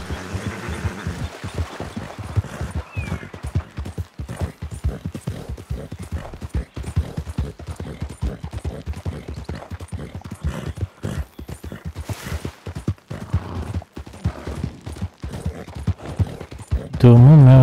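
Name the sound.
horse galloping hooves in video game RedM (Red Dead)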